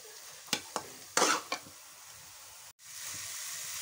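Grated carrot halwa frying and being stirred in a pan, with a few sharp scraping strokes early on and then a soft, steady sizzle.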